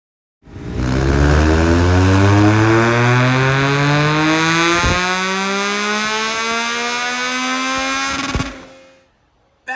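A 2024 Yamaha MT09 motorcycle engine with a Black Widow full exhaust revs up in one long, rising pull, loud and close, then drops off to idle and falls quiet near the end.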